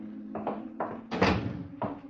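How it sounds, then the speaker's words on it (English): A barracks door opens in a 1950 radio drama sound effect, heard as a run of wooden thumps and clunks followed by a louder creaking bang, close and free of speech. "when the barracks door opens"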